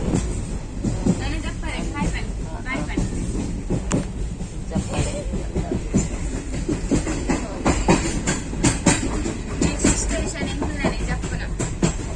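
A train rumbles past with rhythmic clattering from the wheels, loud and continuous, while people talk faintly in the background.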